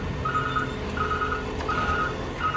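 Steady electronic beeping repeats in a regular on-off pattern over a low engine rumble, a side-loading recycling truck's warning signal sounding nearby.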